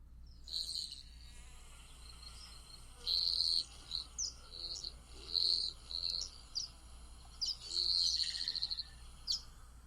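A recording of a male Black-chinned Hummingbird's wing noise plays as short, high, buzzy, insect-like trills in repeated bursts over faint background hum.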